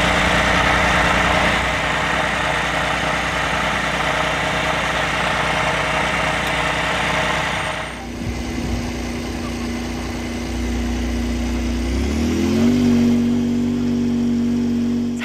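A street-legal F1-derived hypercar engine runs steadily, loud and close, with a shift in its drone midway and a rising pitch toward the end.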